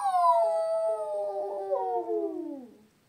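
Young voices imitate a wolf howl in one long, sustained howling call that slowly falls in pitch and fades out over about three seconds, loud and close with no other sound.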